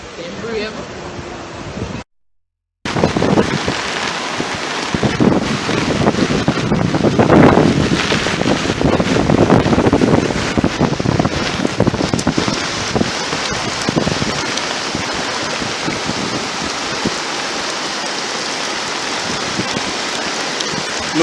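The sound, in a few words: heavy rain and wind from Tropical Storm Grace in Jamaica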